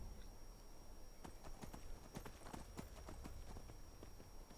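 Horse hooves clip-clop at a steady gallop in the video game Skyrim, a continuous run of sharp, evenly spaced thuds heard close and alone over a faint background hum.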